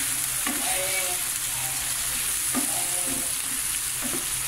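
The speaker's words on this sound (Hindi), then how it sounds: "तो मैं इसको अच्छे से फ्राई करूंगी कि टमाटर जो हैं वो बिल्कुल मिक्स हो जाएं" Tomatoes frying with spices, salt, red chilli and turmeric for Irani chutney give a steady close hiss of sizzling oil, broken by a few soft stirring scrapes, with no talking.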